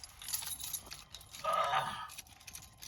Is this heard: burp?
no